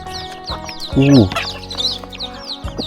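Chickens, including hens and a rooster, cluck and call intermittently in a Thai rural morning setting, a short loud squawk standing out among scattered bird chirps, with a voice talking briefly in the background.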